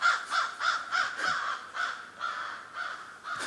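Several crows cawing in a wooded area near a field, repeated harsh calls in an uneven rhythm, fairly close and moderately loud with no talking.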